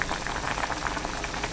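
Doenjang jjigae with tofu, onion and chili flakes bubbling steadily in a pot, a dense, continuous rolling simmer of small pops heard close up with no talk.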